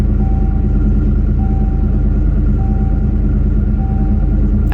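A Ford Foxbody with Holley Terminator X fuel injection idles after a cold start with a possible slight miss, giving a loud, steady, close low rumble with a faint repeating tone above it.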